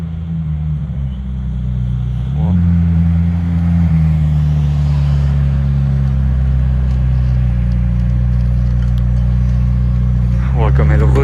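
A McLaren Senna supercar arrives, its deep engine rumble holding steady and swelling slightly, with someone talking over it.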